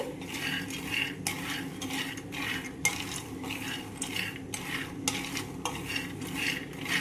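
Peanuts dry-roasting in a pan are stirred in a steady rhythm, about one sweeping, rattling scrape per second over a low background hum, close and fairly soft, with no talking.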